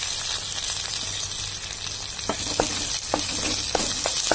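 Grated ginger and curry leaves fry in hot oil with a constant, fairly loud sizzling hiss, dotted with several sharp little pops and stir clicks toward the end, in an upma pan.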